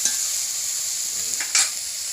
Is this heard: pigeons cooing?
no